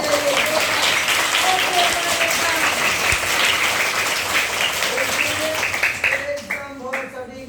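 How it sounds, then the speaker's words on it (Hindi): Loud, dense applause from a classroom of students, continuous for several seconds before thinning into a few last claps, with a voice heard faintly over it near the end. "बिल्कुल, जोरदार ताली दीजिए"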